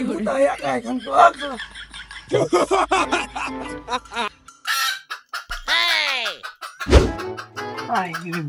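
Chickens cluck and squawk close by, mixed with a person talking loudly; bursts of bird calls come in irregular clusters, with one brief crow-like call.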